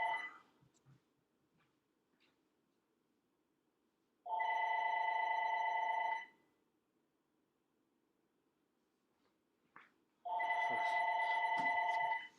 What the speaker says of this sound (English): answer that phone. I don't know why it's even ringing.